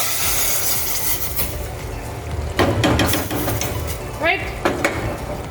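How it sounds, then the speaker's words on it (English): Chunks of chicken frying and being stirred in a pot while dal and rice stew cook, with steady sizzle and clanks of a utensil against metal, and a brief voice in the room. "It's coming off, and we're gonna chunk it and fry it."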